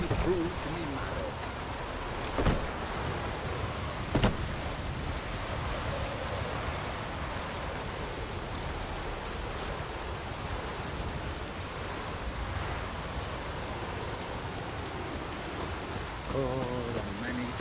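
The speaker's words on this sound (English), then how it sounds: "Rain in fucking buckets." Heavy rain pours steadily in The Witcher 3: Wild Hunt, a constant hissing wash with a couple of sharper splashes, while a voice speaks intermittently over it.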